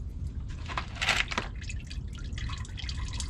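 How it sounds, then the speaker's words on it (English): Motor oil drips from a loosened fitting on a Toyota 4Runner during an oil change, quiet irregular drops and splatters over a low background hum. "So just let it drip."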